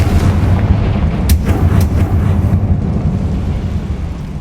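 Fire blast spells in the Hogwarts Legacy video game land as heavy, rumbling booms over a dense, loud background roar, with a couple of sharper bursts in the middle.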